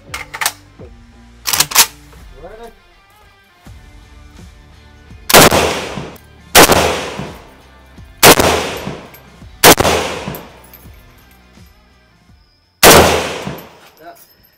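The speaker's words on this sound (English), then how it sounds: "You can fire an AK-47." An AK-47 rifle fires at an indoor shooting range: loud, sharp single shots with ringing echo, several spaced a second or two apart, plus fainter distant shots early on.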